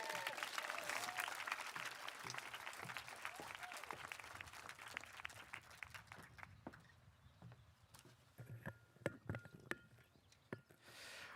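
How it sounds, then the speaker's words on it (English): Audience applause at a high school awards night for a scholarship recipient, fairly full at first and then thinning into scattered claps and stray shuffling noises toward the end. "Let's give him a round of applause."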